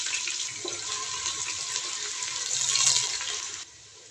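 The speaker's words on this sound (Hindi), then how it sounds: "सबसे पहले मैं प्याज ऐड कर देती हूँ।" Onions dropped into less than half a cup of hot oil in a cooking pot set off a loud, continuous crackling sizzle that eases off abruptly near the end.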